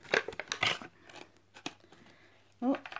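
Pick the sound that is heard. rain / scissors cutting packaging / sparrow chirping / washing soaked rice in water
scissors cutting packaging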